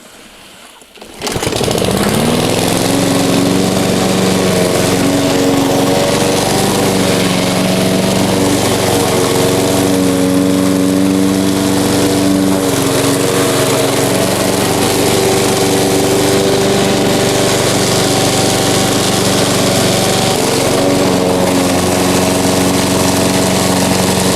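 A Vitals Master Zp 51144td petrol lawn mower engine starts after a brief quiet moment, then runs steadily and loudly close by with a constant droning tone and no talk.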